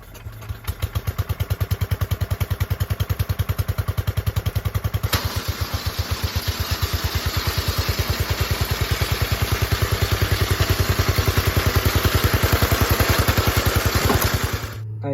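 An old Toro Wheel Horse lawn tractor engine runs steadily in gear, a loud close chugging, putting with rapid even firing pulses and metallic clatter, pitch rising slightly before it cuts off near the end.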